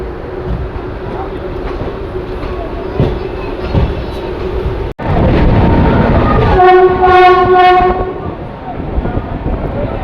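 Saurashtra Janta Express pulling into Bhaktinagar station, steady rumble of rolling coaches, then a loud, long, sustained multi-tone horn blast close by, with a voice talking over the start.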